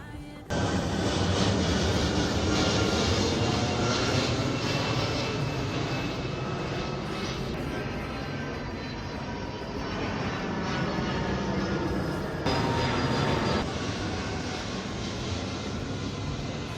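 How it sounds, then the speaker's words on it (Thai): Fixed-wing aircraft passing overhead in Japan during a day of repeated flyovers, a loud, steady jet roar that fills the whole stretch without a break. "วันนี้ไม่รู้เขาซ้อมอะไรกัน เห็นเครื่องบินเป็นสิบสิบรอบแล้ว"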